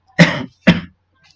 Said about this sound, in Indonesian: Ini Bapak batuk sekali ini